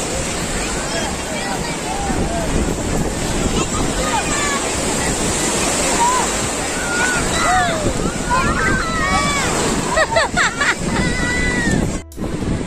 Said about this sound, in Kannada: ಇವಾಗ ನಾವು ಬೀಚ್ ಹತ್ರ ಬಂದಿದ್ದೀವಿ.